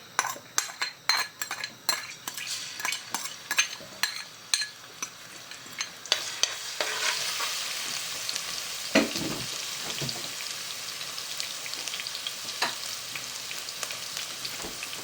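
Garlic and ginger fry in oil in a pan while stuffed brinjal is being cooked. Sharp clinks of a spoon against the pan come first, then a steady, close sizzle takes over with a few scrapes of stirring.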